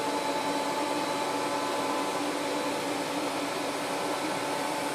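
A WerkMaster Boss 110V 1.5 HP floor grinder buffing a floor right up to the edge, giving a steady, loud motor whine and broadband whoosh that hold even and unbroken throughout.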